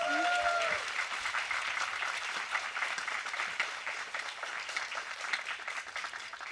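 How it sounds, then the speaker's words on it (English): Steady applause from a large crowd at the Asia School of Business convocation ceremony, fairly distant and even, continuing for several seconds with little else above it. "Give them a big round of applause."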